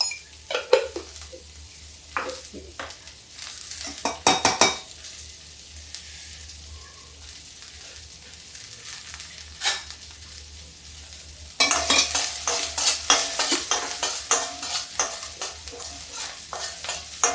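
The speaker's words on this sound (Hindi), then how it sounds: "अब इसको ऐसे ही थोड़ा सा हम ब्राउन भून लेंगे स्वाद देने के लिए" Chopped onion and cumin seeds frying in oil in a kadhai, sizzling steadily with occasional scrapes and stirs of a spoon and clinks of metal, growing louder and more vigorous in the final stretch; no talking.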